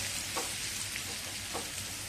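A Marathi tempering of asafoetida, curry leaves, green chili and coriander frying in hot oil for dadpe pohe, a dense, even, close sizzle with faint crackles throughout, no voices.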